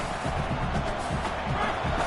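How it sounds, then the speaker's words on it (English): In a college football video game, a stadium crowd roars continuously as a dense, steady wash of cheering and noise, filling the whole moment without distinct breaks. "This crowd bringing the energy and noise early."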